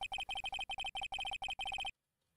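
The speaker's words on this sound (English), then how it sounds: "I heard a phone ring just now. One of those newfangled ringtones." A synthetic phone ringtone from Phoenix Wright: Ace Attorney chirps in rapid repeated beeps, grouped in quick bursts for about two seconds, then cuts off into silence.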